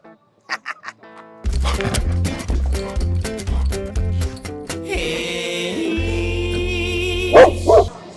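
Dogs bark in a few sharp bursts near the start, then more barking mixes with loud, steady low-pitched background sound through the rest.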